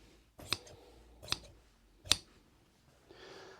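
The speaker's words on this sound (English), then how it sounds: "now I'm going to take the shears and just cut directly across on that line" Fabric shears snipping straight across cloth while a damaged pocket is replaced, three distinct sharp cuts spaced under a second apart, close and fairly quiet, followed by a soft rustle of fabric.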